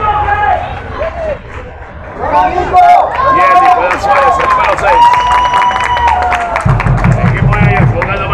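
Spectators at an amateur Olaya football tournament match, Monserrate vs Alianza Sur, clap and cheer as a substituted player leaves the pitch, a loose crowd rumble under loud, continuous commentary.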